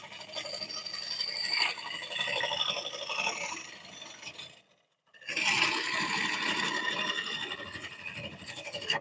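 A gouge cuts into a cypress bowl spinning on a wood lathe, a steady loud rasping and whirring that stops briefly partway through and then resumes just as strongly. No one speaks.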